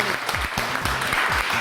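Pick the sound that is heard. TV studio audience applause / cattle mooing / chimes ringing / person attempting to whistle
TV studio audience applause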